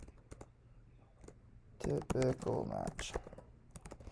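Typing on a computer keyboard, sparse quiet keystrokes at first, then a denser burst of clicks in the middle, mixed with a brief spoken word.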